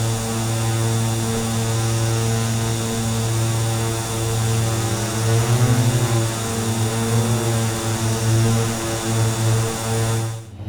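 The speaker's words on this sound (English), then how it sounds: "So the right engine turning on." A steady, droning twin turboprop engine hum from a Carenado 690B Turbo Commander in a flight simulator, with a propeller buzz running continuously, loud and even, wavering slightly midway before cutting off at the end.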